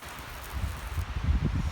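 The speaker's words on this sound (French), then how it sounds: "Il y a du vent." Gusty wind buffets and rustles close to the microphone at an overnight tent campsite, in brief, rough bursts, growing a little stronger partway through.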